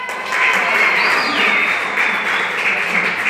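Applause at a CrossFit league event, a crowd clapping steadily and fairly close, with a faint whistle-like tone and some voices mixed in underneath.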